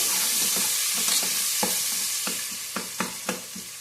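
Sliced onion frying in oil in a pan while being cooked for pulao, a constant loud sizzle broken by repeated scraping stirs of a spatula, close and with no talking.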